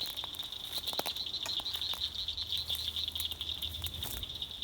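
Rain pattering outdoors around a tree, a steady soft patter of drops with a constant high insect-like hiss, continuous and moderately quiet with no talk.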